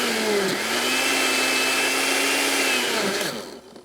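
A blender whirs loudly at a steady pitch for a few seconds, its motor dipping briefly near the start, then spinning down and stopping.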